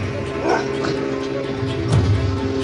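Dogs brought by family visitors bark, yip and whimper in short bursts, fairly close and mixed with household background noise and a little talk.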